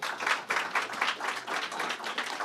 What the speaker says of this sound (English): I want to give her a round of applause for joining us here today.